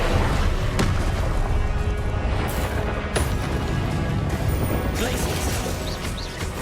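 The Incendio fire spell cast in the video game Hogwarts Legacy, a loud, dense roaring burst with sharp crashing booms breaking through a constant blaze of noise.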